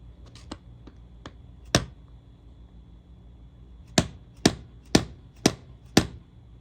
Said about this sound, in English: So we're going to punch out a couple of the rivets.